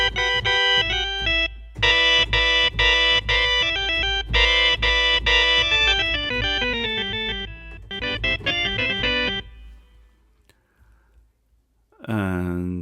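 Vox organ sample, choppy bright organ chords in rhythmic bursts with short gaps, over a low bass line, then a brief pause and a final swelling chord.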